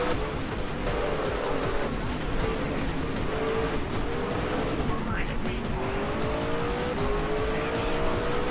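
Race cars in a CorpoCar World Series race on a street and road circuit run close together, their engines droning steadily with pitch sweeps as they pass, under continuous commentary.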